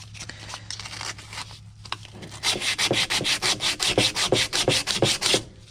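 Two Dremel rotary tools sand out scratches with a rough rubbing grind, first in scattered strokes, then in a fast, loud, even rhythm of repeated back-and-forth passes, with no talking.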